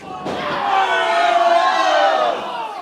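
A pro wrestling crowd roars in unison along with a pin count, a loud, sustained collective shout from a packed arena that rises and then cuts off.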